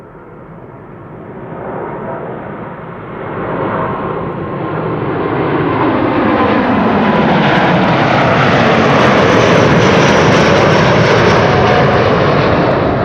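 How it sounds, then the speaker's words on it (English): A Delta Airlines Airbus A330neo, a five-year-old jet, arrives at Amsterdam Schiphol with a broad engine roar that swells steadily from moderate to very loud and close as it passes. The sweeping whine shifts in pitch throughout, with no voices. "Delta Airlines Flight 75 to Atlanta, Georgia"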